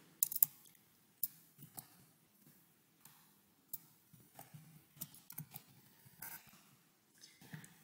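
Typing a password on a computer keyboard: soft, irregular key clicks in short bursts, close but quiet, with no voice.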